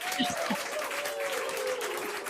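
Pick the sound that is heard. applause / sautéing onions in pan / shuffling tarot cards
applause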